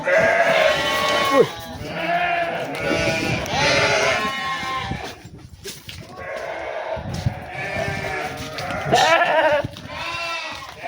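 Sheep on a farm bleat repeatedly outside their pen, several loud, wavering calls close by in clusters, with short pauses and a little background voice between them.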